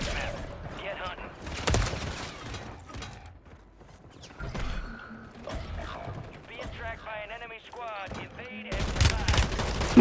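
Gunfire in the video game Call of Duty Warzone on Rebirth Island: loud bursts of rapid shots crackle out near the start and again densely at the end, with quieter in-game mechanical clatter and effects between them.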